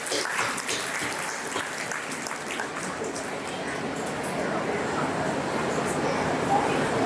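Crowd applause for a school principal and teachers at an Independence Day award ceremony, a broad continuous wash of clapping heard from some distance, moderately loud and even throughout.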